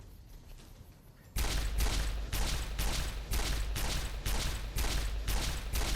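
Fallout New Vegas gunfire: after a quiet moment, a gun fires about eight loud, evenly spaced shots in a steady rhythm, each one booming close up.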